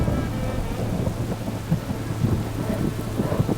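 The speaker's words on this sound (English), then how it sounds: "Driving rain makes it even more dangerous." Driving rain beats down steadily through a rugged mountain landscape of steep, rocky slopes, with low thunder rumbling beneath and a few heavier gusts and bursts of drops near the end; no voices.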